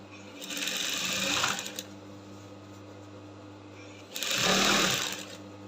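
A sewing machine stitches a garment armhole at a small seam allowance, two short bursts of fast mechanical whirring separated by a quiet pause with a low steady hum.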